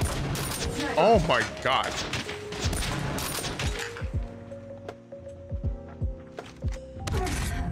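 Rapid game gunfire from COD Mobile crackles in short bursts over a busy match, with clicks and thuds mixed in and a player's exclaimed voice breaking in.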